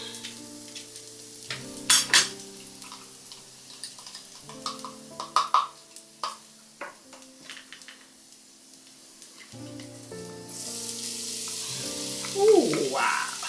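Garlic frying in a pan for a broccoli and mushroom garlic sauce, with soft sizzling, scattered utensil clinks and scraping stirs throughout, moderately close and unaccompanied by talk.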